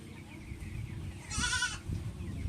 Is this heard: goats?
yes